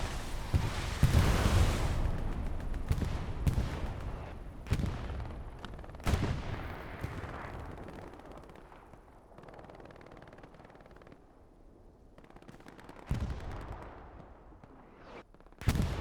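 Artillery strikes and gunfire in a war video game: heavy booming impacts and shots land at irregular intervals, some loud and near, others duller and more distant, with quieter stretches between them.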